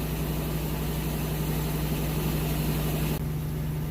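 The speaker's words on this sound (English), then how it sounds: "Essentially it's going to spin this fast once it's doing the final spin, but this is your from wash to rinse spin here." A GE washing machine runs its spin between wash and rinse, giving a steady, loud, close droning hum with a constant low tone that shifts slightly near the end.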